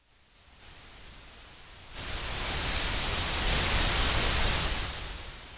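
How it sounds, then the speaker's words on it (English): Steady broadband tape hiss from a Studer A800 tape machine plugin, faint at first, then jumping louder and holding at a high level with no other sounds. "It's really adding that tape hiss."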